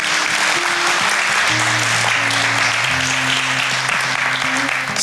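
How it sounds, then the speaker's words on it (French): A congregation applauds at a Sunday-morning church service, steady dense clapping that fills the whole stretch, with low sustained musical tones held underneath. "Si on peut donner une main d'applaudissement au Seigneur ce matin."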